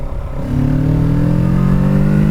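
A 2024 Kawasaki Ninja 650 motorcycle engine revs up under hard acceleration, its pitch climbing steadily and loudly from a lower note into a strong, sustained rising whine, close by and with no talk.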